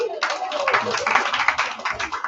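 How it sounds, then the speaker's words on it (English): Applause from an audience at a Rotary Club of Lagos Golden Hearts event marking World Menstrual Hygiene Day, dense steady clapping that starts abruptly and carries on at close range for a couple of seconds. "A round of applause for me."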